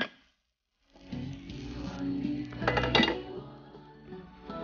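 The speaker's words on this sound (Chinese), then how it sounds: "然后扣上一个盘子，像这样倒扣过来" A pan holding an egg pancake made with enoki mushrooms is covered with a plate and flipped, giving a few clinks and scrapes of metal against ceramic, quiet and close, after a moment of silence.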